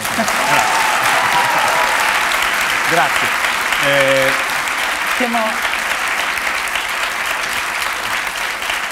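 An audience at a live podcast recording applauds steadily and loudly for several seconds, with someone speaking and laughing over the clapping.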